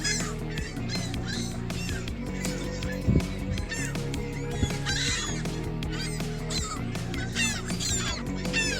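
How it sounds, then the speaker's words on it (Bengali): A dense, nonstop chorus of ducks or geese honking and squawking on water at Bluffer's Park, many birds calling over each other at close range. "হাঁসগুলি ভাসছে হাঁস বসে আছে"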